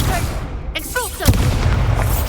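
An Expulso blasting-spell explosion in Hogwarts Legacy, a sudden deep boom with a rumbling tail, loud and close, coming after brief talk.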